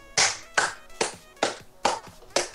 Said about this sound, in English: No, I'm clapping for my own humanity.